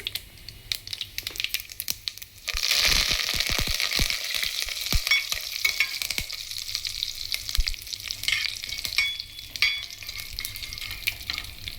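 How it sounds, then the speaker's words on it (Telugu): Curry leaves dropped into hot oil in a pan for a traditional Andhra brinjal curry with castor milk, bursting into a loud crackling sizzle after a quiet start, with sharp spitting pops and stirring scrapes over a steady hiss. "కొంచెం లైట్గా వేగినాయి కదండి, ఇప్పుడు కరివేపాకు వేసుకోవాలి"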